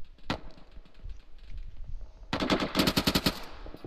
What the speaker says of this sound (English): Yeah, it's around tracers. It's a machine gun,